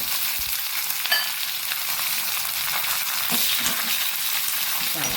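Mustard seeds spluttering in hot oil with curry leaves, a dense, steady crackling sizzle that stays loud and even throughout, close up with no talking.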